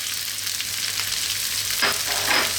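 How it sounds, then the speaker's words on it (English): Vegetables and green onions stir-fry in a hot pan for fried rice, a steady, close sizzle with a couple of scraping stirs near the end. "I'm going to go again, stir frying these vegetables for 2 to 3 minutes now."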